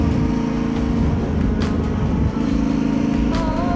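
Yamaha Tenere 700 motorcycle fitted with an aftermarket exhaust, riding outdoors: a steady, throaty engine drone with wind noise, holding a loud, even pitch throughout with a brief dip midway.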